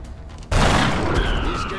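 Rifle gunfire in XCOM: Enemy Unknown: a sudden loud burst of shots erupts after a quiet moment and rings into a dense, sustained roar of fire that fills the rest of the clip.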